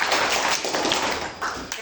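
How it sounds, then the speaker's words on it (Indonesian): An eleventh-grade class clapping their hands in a school counselling session, a dense, steady patter of many hands with no talk over it. "Pintar, tepuk tangan untuk kelas 11."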